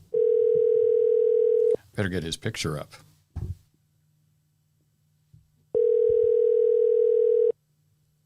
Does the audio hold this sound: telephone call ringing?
yes